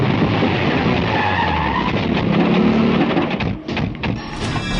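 A movie motorbike roars in and skids, a loud continuous engine and tire noise that dips briefly near the end before picking up again.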